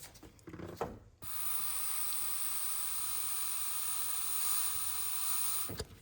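A sharp burst of blowing, then a steady airy hiss of air leaking through a small EVAP system valve from a 2019 Chevy Traverse for several seconds, close and fairly quiet.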